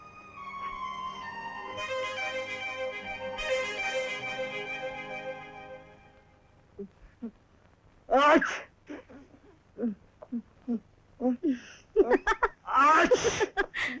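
A person sneezes in a sharp, close burst after a stretch of soft background music, followed by brief voices and short vocal sounds.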